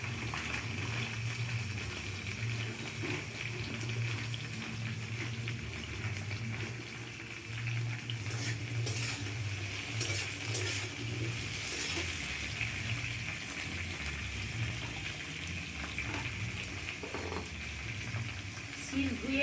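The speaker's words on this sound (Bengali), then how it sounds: "এই পটলটাকে তেলে ভেজে নেব" Pointed gourd frying in hot oil in a home kitchen, giving a steady, moderately loud sizzle and crackle with a low background hum throughout.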